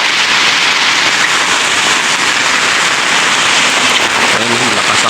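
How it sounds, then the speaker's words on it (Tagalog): Heavy rain pours steadily in a loud, dense hiss that stays constant throughout, drowning out other detail. "At malakas ang ulan."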